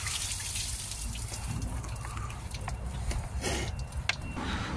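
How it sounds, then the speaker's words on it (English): Coolant drains from a disconnected EGR valve on a Ford Transit Custom 2.2 in a steady, close trickling gush that runs on without pause, with no talk over it. "We're going to lose a bit of coolant from it."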